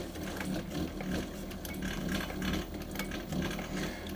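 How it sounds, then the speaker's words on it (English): A post bed sewing machine stitching a boot in reverse, a steady rapid mechanical chatter with rhythmic pulsing and clicking, close and continuous for several seconds. "So I'm just going to put in another row of stitches now."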